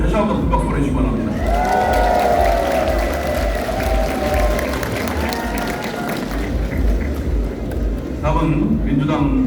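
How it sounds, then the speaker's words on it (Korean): Crowd applause with scattered cheers at a launch ceremony at the Kim Dae-jung Center in Gwangju, steady and loud, with an announcer's amplified voice speaking over it. "다시 한번 큰 박수 보내주시기 바랍니다"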